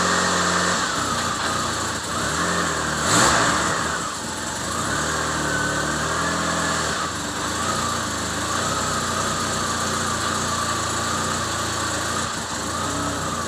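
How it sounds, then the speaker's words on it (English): A car with a freshly built manual transmission runs steadily while the clutch is let out in each gear, a loud, close engine drone whose pitch rises and settles in turn, with no talking. "We'll go ahead and let the clutch out in each gear, like run it through the gears."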